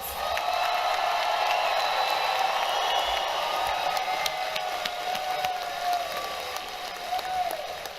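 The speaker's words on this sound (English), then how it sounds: "let's give a big round of applause for the class of 2026" Sustained applause from a large crowd honoring the graduating class at a college commencement ceremony, a dense steady clapping wash with faint cheers that gradually tapers toward the end.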